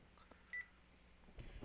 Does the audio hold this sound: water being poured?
no